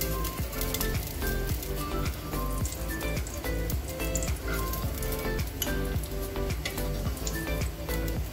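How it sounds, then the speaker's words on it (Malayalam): Cashew nuts frying in hot ghee make a dense, steady sizzle and crackle, loud and close, continuous throughout with small popping bursts and occasional stirring. "കാഷ്നട്ടും ജസ്റ്റ് ഒന്ന് ഫ്രൈ ചെയ്തെടുക്കാം"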